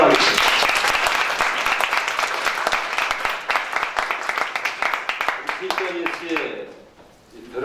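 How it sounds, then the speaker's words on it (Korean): Applause from an audience at a school assembly, dense sustained clapping close and loud that gradually thins into scattered claps before fading out. "박수 한번 하겠습니다."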